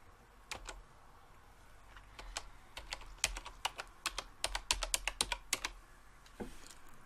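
A username and password are typed on a computer keyboard: a quiet, irregular run of sharp key clicks that speeds into a dense burst midway, then trails off with a final tap.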